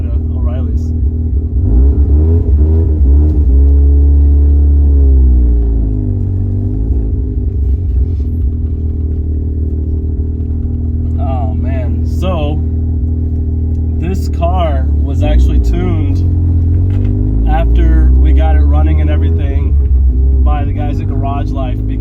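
A Mazda RX-7 with a turbocharged rotary engine drives from a store parking lot, a loud low droning engine rumble that rises and falls through gear changes while a person talks over it inside the car.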